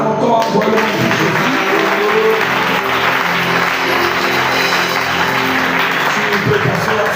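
A church congregation applauds loudly and steadily throughout, with dense clapping mixed with voices and a faint musical tone underneath.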